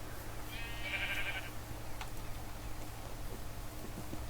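One bleat from a Minecraft sheep sounds early on in a quiet game scene, faint and wavering, followed by soft scattered ticks and clicks.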